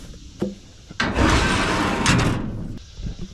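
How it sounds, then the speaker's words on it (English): A trailer door is shut, giving a loud sliding, scraping rush of metal that lasts over a second, with a few lighter knocks just before and after. "we can shut the door."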